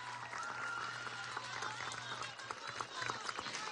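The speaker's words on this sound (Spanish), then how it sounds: "Vamos a darle un gran aplauso a los equipos de calle, de comunidad, de UVC que se lo merecen." Crowd applause and cheering at an outdoor PSUV political march in Maracaibo, a dense continuous roar of clapping with a steady low hum underneath, sustained throughout.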